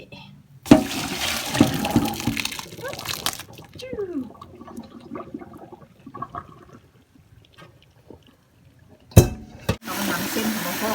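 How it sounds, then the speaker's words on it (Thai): Cooked dried rice vermicelli noodles are rinsed in water, with splashing and pouring bursts at the start and end and quieter sloshing between, while a person talks. "เราก็นำเส้นมาล้างเนาะ"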